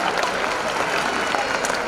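Audience applause for the organisers of a sports academy, a dense and fairly close burst of clapping from a crowd that sustains evenly for about two seconds.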